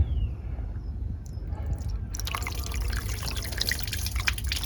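Water poured from a jug splashes onto a classic car's body for a leak test, starting as a faint trickle and then becoming a steady rain-like pattering over a low rumbling background.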